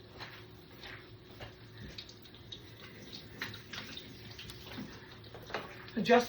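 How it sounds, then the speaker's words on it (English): A tap runs softly in a kitchen sink while hands are rinsed under it, a faint splashing trickle with small intermittent splashes and a louder burst at the end. "I just wash my hands."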